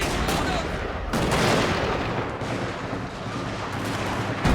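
Dense gunfire from a Total War: Shogun 2 battle, a continuous roaring barrage of overlapping shots and crackle, loud and unbroken across the whole moment with faint voices mixed in.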